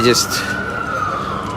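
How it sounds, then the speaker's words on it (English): A police siren wails in the distance behind a street crowd, one steady tone held across the clip, with a voice talking briefly at the start. "Oh, we're getting some sirens now at the back."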